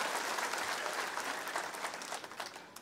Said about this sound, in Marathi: एकदा टाळ्या वाजून त्यांचं सुद्धा अभिनंदन आपण करा